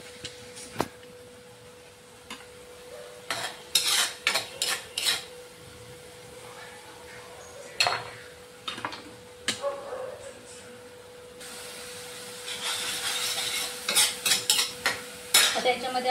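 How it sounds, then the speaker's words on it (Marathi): Onion and tomato fry in a pan while being stirred, a soft sizzle with intermittent scraping and clinking of a utensil against the pan, moderately close and fairly quiet. "कांदा टोमॅटो चटका लागला. त्याला मस्त असं फ्राय करून घ्यायचं."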